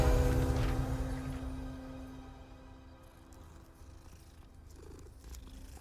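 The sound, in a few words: cat purring in video game Hogwarts Legacy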